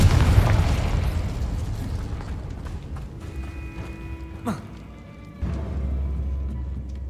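Heavy rumbling blasts from a spell explosion in a wizarding video game. A deep boom fades out, a sharper burst follows midway, and a low roar returns near the end, all loud and close with no speech.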